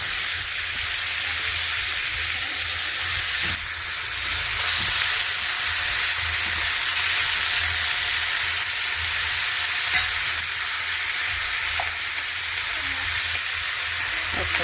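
Ridge gourd, potato and bottle gourd greens fry in a pan, a steady bright sizzle running throughout with occasional soft stirring scrapes, close and continuous.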